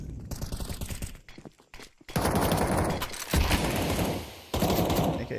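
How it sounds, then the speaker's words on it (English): Rapid automatic gunfire from a Counter-Strike match, dense bursts spraying through smoke, loud and close with short pauses between volleys. "He also finds a second one on Dawy, just spamming through the smoke."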